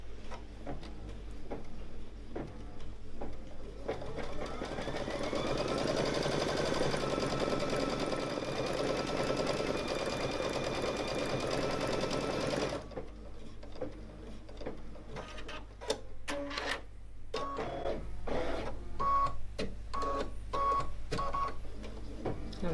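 A Brother Luminaire Innovis XP1 embroidery machine stitches steadily in a loud, continuous mechanical whir with rapid needle ticking, briefly shifting pitch midway before settling back into its busy rhythmic run.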